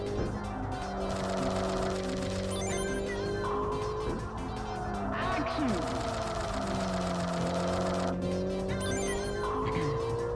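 A Honda Civic engine in the video game Kaido Racer revs high and smooth, its whine rising and falling through gear changes, sustained and loud, with game sound effects and a talking voice layered over it.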